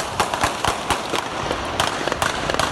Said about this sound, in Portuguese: Gente, tiroteio aqui agora